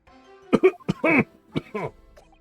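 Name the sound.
coughing in a video game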